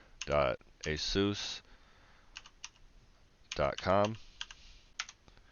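Sparse clicks of keys typed on a computer keyboard while entering the ASUS ROG website address for a BIOS update, with brief bursts of voice near the start and middle between the light, scattered keystrokes.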